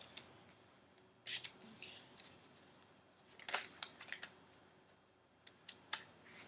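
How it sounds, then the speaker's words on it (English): Slippery tarot cards being shuffled carefully: quiet, sparse crisp riffling snaps and flicks scattered across the moment, close to the microphone, with a brief spoken word. "I'm going to shuffle for just a few more seconds."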